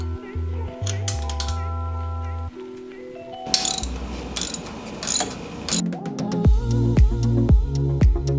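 Ratchet wrench tightening bolts on an external wastegate of a 2006 Subaru WRX turbo, close, bursts of rapid clicking ratcheting alternating with metallic clinks and clunks, with someone talking between bursts.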